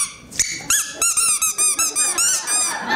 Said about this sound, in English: So now with this squeaker, you now have the ability to make anything you want squeak